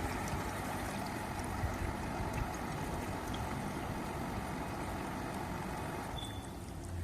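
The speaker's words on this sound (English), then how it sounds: "Grab your jerry and pour water" Water pours steadily from a jerry can into the mesh tray of an MG10 machine, a continuous broadband rushing stream at even level with no pauses.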